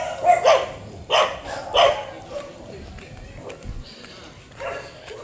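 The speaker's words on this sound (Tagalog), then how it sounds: "May aso dyan." A dog barks several times in quick bursts near the start, then a few softer yips follow amid background talking.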